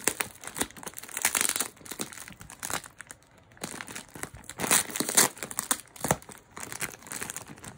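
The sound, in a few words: tape being ripped off a package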